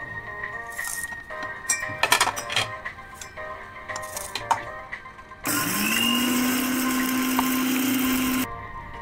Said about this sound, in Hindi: अब मैं इसे मिक्सी में पीसूंगी